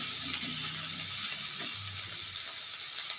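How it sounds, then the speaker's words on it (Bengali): Beans cooking in a pan with onion paste are stirred once the lid comes off, a soft, continuous sizzle with a few low scraping stir sounds close by. "এবার আমি ঢাকনাটা খুলে একবার নেড়ে দেব।"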